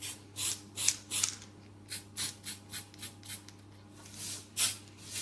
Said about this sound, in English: I'm just spraying this now just to get it ready for when we assemble together.